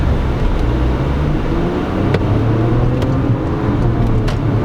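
A turbocharged car accelerating hard, with a dense, loud, continuous engine and road roar heard from inside the cabin, holding steady throughout without any talk.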